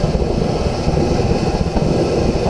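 Diesel-burning forced air heater giving off a loud, continuous rumbling roar with a fluttering, pulsing texture, steady throughout and close by.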